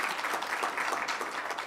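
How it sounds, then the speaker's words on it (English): Audience applause at the ERWIC Awards 2020 ceremony, a steady wash of clapping hands sustained across the whole moment at moderate level, with no pauses or voices standing out. "you can give yourself a round of applause for that"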